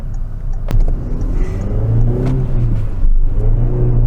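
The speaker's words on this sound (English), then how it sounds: "The engine certainly has a nice note as it revs, and it really does feel quite eager to pull you forwards" Citroen DS3 with a 120 PS engine revving, a close mid-pitched engine note climbing and falling through a couple of rev sweeps with a sharp click near the start, no voices.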